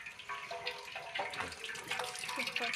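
Water trickles from a tap in a thin, faint, uneven stream with small splashes, fairly close, with no voices over it.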